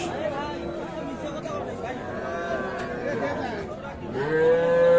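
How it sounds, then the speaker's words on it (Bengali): A young bull calf moos amid a noisy crowd of chattering people at a cattle market in Dinajpur, with a longer, louder call near the end. "এটা একটা ষাঁড় বাচ্চা"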